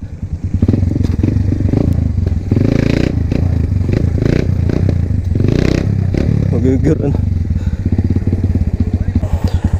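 A Barako 175 motorcycle engine rumbles loudly and close, revving under load, with a voice speaking briefly over the steady drone.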